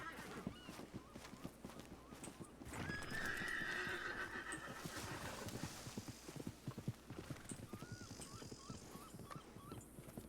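In the video game WildRP, a horse's hooves clip-clop in a steady rhythm while it gives a loud whinny partway through, with faint honking in the background.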